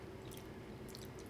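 Someone chews a mouthful of crunchy pancake cereal with milk, soft close crunching and squishing in a brief burst with no talk.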